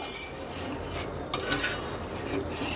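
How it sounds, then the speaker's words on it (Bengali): Spice paste for rohu fish curry with potatoes is stirred and fried in a pan, giving a soft, steady sizzle with occasional light scrapes and one sharp clink of utensil on metal. "তো চলো মশলাটা কষানো হোক সুন্দর করে যে পর্যন্ত না তোমার জলটা না শুকায় আর তেলটা না ছাড়ে"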